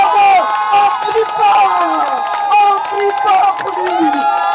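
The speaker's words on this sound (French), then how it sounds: "On crie fort pour lui." A large crowd at a 31 August 2013 rally for President Laurent Gbagbo cheers and shouts loudly, voices rising and falling together over continuous clapping and chanting close by.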